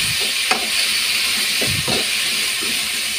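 Vegetables sauté in hot tempering in a pan for a kuruma, giving a steady close sizzle and hiss, with a few soft stirring scrapes rising over it.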